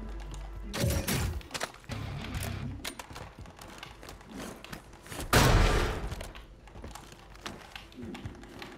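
Gunfire in the Call of Duty video game: scattered sharp shots and rapid bursts over busy clicking, with one loud, heavy blast midway before the firing settles back to lighter pops.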